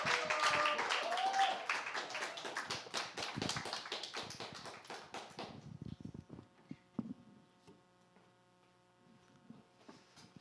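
A church congregation claps to welcome a preacher at a worship service in Daegu: dense, lively applause for about five seconds that thins into scattered claps and fades to a quiet room.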